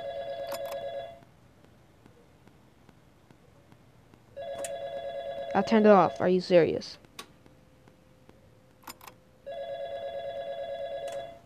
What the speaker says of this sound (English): Answer the gosh darn phone call.